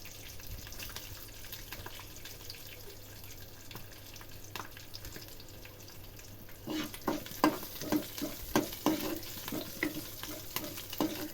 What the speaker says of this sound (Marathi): लसूणसुद्धा दोन ते तीन मिनिट तेलामध्ये चांगला परतून घ्यायचा